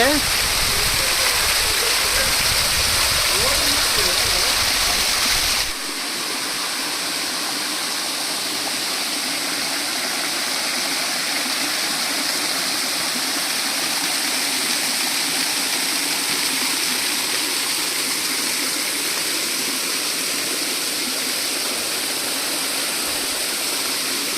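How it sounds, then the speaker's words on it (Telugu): A waterfall and flowing stream roar continuously and loudly nearby, a dense steady rush of water throughout, with a brief burst of louder splashing at the start. "వాటర్ ఫాల్స్ ఎంత అందంగా ఉందో అసలు"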